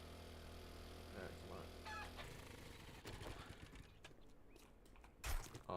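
Chickens cluck and squawk in the survival video game 7 Days to Die, heard at moderate level over a steady low rumble of game ambience, with a few sharper thumps and clatter toward the end.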